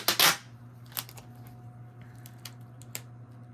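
A loud ripping screech of tape being pulled from a roll opens, followed by a few sharp clicks and small taps in a quiet room.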